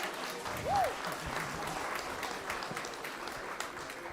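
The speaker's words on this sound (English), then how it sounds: "I guess they deserve more claps" At a startup conference, an audience applauds the pitching startups in a faint, distant patter of clapping that is steady throughout, with a brief whistle-like tone early on.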